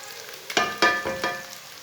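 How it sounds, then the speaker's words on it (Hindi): Onions, ginger and garlic fry in a pan, a close sizzle punctuated by four or five scraping stir strokes, with no talking. "अदरक और लहसुन को लाजमी भूनना 2 मिनट तक"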